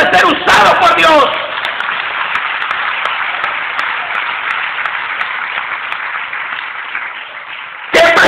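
A church audience gives sustained applause, a steady roaring wash of clapping hands following a preacher's voice and lasting several seconds before speech resumes at the very end.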